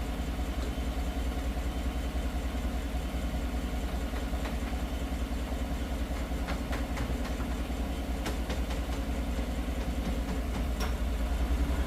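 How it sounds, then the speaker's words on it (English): A 2015 Chevy Tahoe engine idles with a steady, even drone while the A/C compressor engages during a refrigerant recharge, giving a continuous mechanical hum with faint clicks and ticks and no talking. "Compressor's kicked on."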